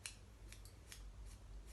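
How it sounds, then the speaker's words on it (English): Scissor tips point-cutting a boy's hair: a series of about six soft, crisp snips at an uneven rhythm, close and quiet, with no talking. "cutting with the tips of your scissors."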